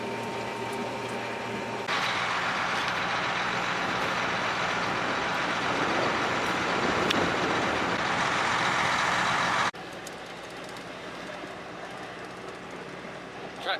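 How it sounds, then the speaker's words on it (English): A grain truck pulls in during a West Texas wheat harvest, its heavy engine rumble rising to a steady, loud drone for several seconds before dropping back to a quieter idle near the end. "Truck's here."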